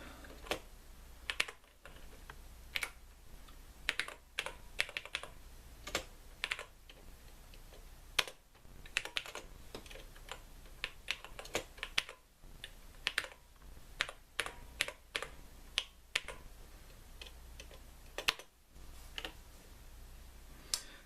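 Keys clicking steadily on a TRS-80 Model 100 portable computer keyboard while a BASIC program is typed in, a close run of crisp irregular taps with brief pauses between bursts.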